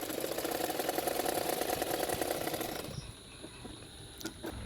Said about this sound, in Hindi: तो फिटिंग के लिए दोनों साइडों में मैंने सिलाई कर लिया है।